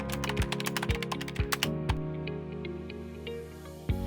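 Username and password being typed on a computer keyboard: a handful of irregular, close keystrokes spaced through the clip over a steady tonal musical background.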